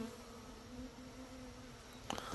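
Faint, steady buzzing of honeybees drones throughout around a hive, with a brief tap or knock near the end.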